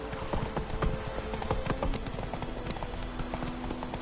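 Hoofbeats of a galloping horse in The Witcher 3 pound in a quick, even rhythm, close and fairly loud, over a low game soundtrack hum with no clear talk.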